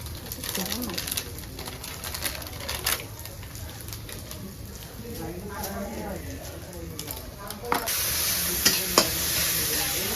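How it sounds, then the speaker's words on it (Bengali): Cumin powder fries in a pan for a Bengali potato fish curry, giving a soft crackling sizzle with repeated scraping stirs and taps, and a voice now and then in the background. "আমি জিরার পাউডার দিচ্ছি।"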